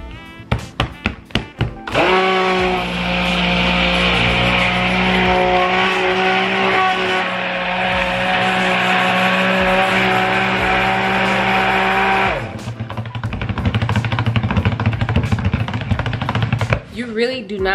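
A stick blender mixes cold process soap batter: a loud, steady motor whir lasting about ten seconds, framed by brief clattering knocks against the container before and after.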